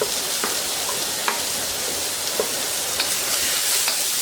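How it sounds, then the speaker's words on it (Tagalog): Vegetables with onions sautéing in a pan for a togue lumpia filling, a steady close hiss of frying with occasional soft stirring clicks and taps throughout. "Gisa lang to."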